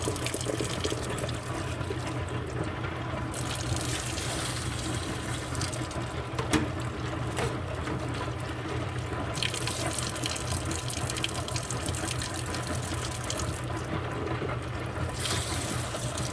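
Tumbled rocks being scrubbed with a kitchen scrub brush in soapy water, a continuous wet swishing and splashing that holds steady and close throughout, with the bristle strokes surging and easing in long stretches.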